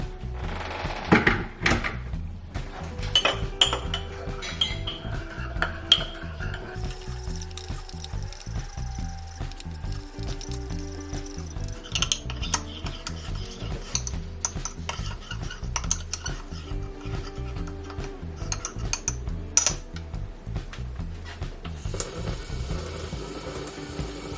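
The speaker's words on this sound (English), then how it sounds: "And then it says after you pour the water to stir and keep stirring." A spoon stirs Turkish instant coffee in a mug, clinking and scraping against the sides in a steady, close, continuous rhythm that lasts for many seconds with no talking.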